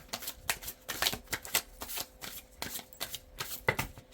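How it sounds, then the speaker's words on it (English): Rapid crisp riffles of a new, stiff deck of cards being shuffled, repeated in quick bursts with short pauses, close up and fairly loud. "I've shuffled these a lot to loosen them up."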